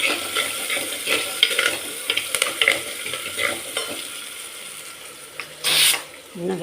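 Onions and curry leaves fry in a clay pot for sambar, crackling and sizzling close by with irregular spatters and stirring scrapes and a louder burst near the end.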